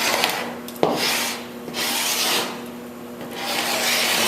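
Scraper rasping black paint off the wooden hull of a 1937 Lyman Eagle boat, in three long bursts of dry, gritty strokes with one sharp knock early on; close and steady, with no talk.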